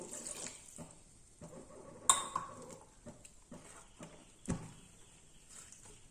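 Water splashes and trickles into a pot while cooking tomato rice, with occasional clinks of metal cookware, close and fairly quiet.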